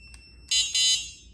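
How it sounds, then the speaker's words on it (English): An unprogrammed Fardriver ND72300B controller on a Qronge X1 Spark electric motorbike beeps: a faint short chirp, then two louder electronic beeps in quick succession, close and alone. "Controller is beeping because it's not programmed quite yet"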